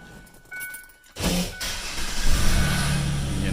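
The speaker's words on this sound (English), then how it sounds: "engine running." A Ford Explorer Sport Trac's engine turns over with a short burst of cranking, then catches and settles into a steady, close idle that carries on alone to the end.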